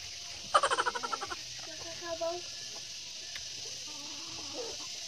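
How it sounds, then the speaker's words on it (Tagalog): Chickens cluck nearby in a quick run of sharp, rhythmic calls, followed by quieter scattered clucks over a faint steady background hiss. "Oh, mga manok."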